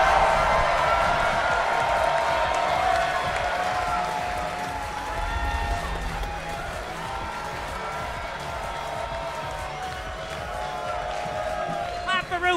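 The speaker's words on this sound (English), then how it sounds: "Clap for Rufus, that was lovely" Audience applause for Rufus Wainwright at the Queerties awards show, a sustained wash of clapping and crowd noise with cheering mixed in, steady throughout and fading slightly toward the end.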